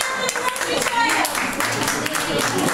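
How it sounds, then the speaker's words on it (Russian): Audience clapping for a boy named Vanya after he sings an anthem on stage at a winter camp, a steady wash of many hands applauding throughout, fairly loud and dense. "Еще аплодисменты, аплодисменты."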